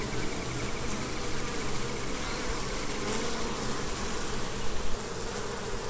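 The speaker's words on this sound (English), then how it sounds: "I'm standing right here in front of the hive and they're going around me." A dense, steady buzz of bees swarms close around someone standing right in front of their hive, a continuous insect drone with no voices.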